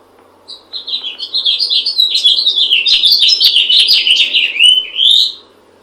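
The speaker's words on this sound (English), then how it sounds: "My favorite bird sound is the house finch." House finch singing: a loud, close, continuous warbling song of rapid, tumbling chirps and trills lasting about five seconds, ending on a rising note, with a faint low hum behind it and no talk.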